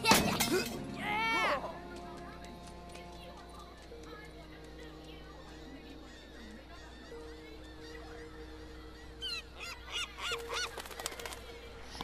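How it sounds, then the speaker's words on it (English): Seagulls in the video game Concrete Genie give loud, harsh squawking calls up close at the start, then quieter intermittent cries, with game sounds and a faint tonal background throughout. "Seagull."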